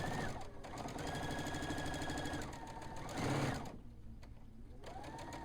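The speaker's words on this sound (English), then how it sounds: "This is a great machine, though. It is. I love sewing on it." A sewing machine stitches fabric in steady rapid bursts, close and loud, with a brief pause and a pivot partway through and faint talk in the background.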